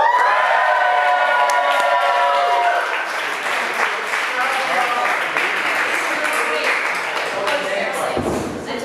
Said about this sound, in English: I want to hear a massive DeadSuds round of applause